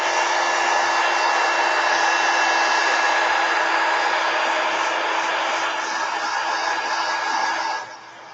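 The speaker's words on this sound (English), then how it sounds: "Let me hit it with a heat gun and make sure it's real dry" Heat gun blowing over a freshly inked Zentangle flower card, a loud steady roaring hiss of hot air held close, then dropping sharply in level at the very end.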